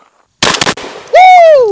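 A Beretta 1301 shotgun fitted with a chisel and an Aridus handguard fires one loud, sharp shot at close range, and a person lets out an excited whoop right after.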